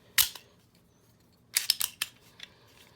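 Metal clicks and clacks of a Smith & Wesson Shield pistol's slide lock and slide release being worked on a fresh build: one sharp snap, then a quick cluster of three or four close clicks and a softer trailing one.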